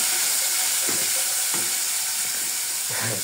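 Broccoli in coconut-milk gravy sizzles loudly in a cooking pan, a steady hiss broken by several soft scraping stirs of a utensil against the pan.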